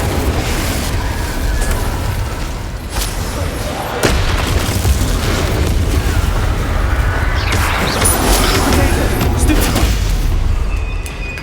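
Spell blasts from Confringo and Incendio in Hogwarts Legacy, loud continuous booming and crackling bursts filling the whole stretch, with a sharp hit near the start and a dense fiery surge toward the end.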